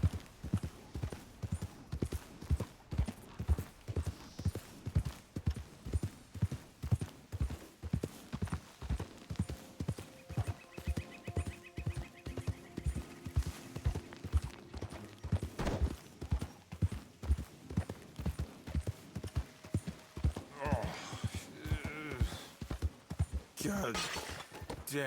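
A horse's hooves clip-clop in a steady walking rhythm, close and clear, in the Red Dead Redemption 2 game, with brief bursts of voices and game noise near the end.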